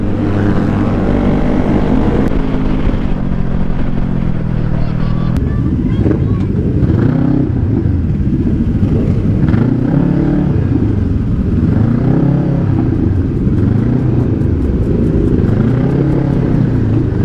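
Engines rev and rise in pitch again and again, motorcycles rumbling loudly nearby in repeated surging waves.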